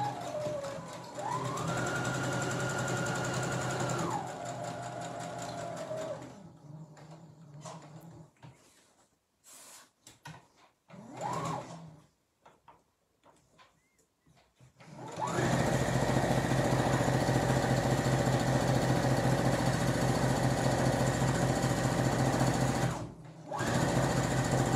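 Domestic sewing machine stitching a fabric peg bag, running in two long steady bursts with a patchy pause of short stops and starts between them, loud and close.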